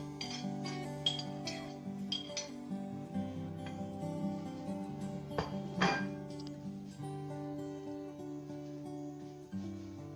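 Dhokla batter stirred with a spoon in a bowl, giving light, irregular clinks and scrapes against the bowl, with a few sharper knocks midway, over a steady tonal background.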